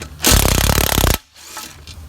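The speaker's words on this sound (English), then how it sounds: "There's a lot of them, so it helps with a drill" A loud power drill whirs in one sustained burst of about a second, undoing splash tray bolts on a VW Touareg, then cuts off, leaving quieter background noise.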